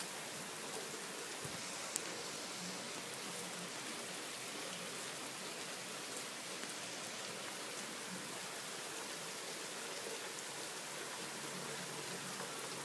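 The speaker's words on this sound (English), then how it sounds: "That river of rain." Steady, even rainfall hissing down close by as a dense, unbroken wash of drops, faint overall and with no voices.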